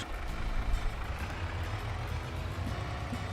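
A Mack truck engine in Farming Simulator 22 gives a steady, low, rumbling drone close by, with no talking over it.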